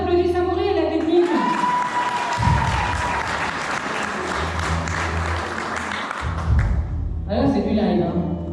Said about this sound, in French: Et je voudrais qu'on applaudisse Amaury à la technique.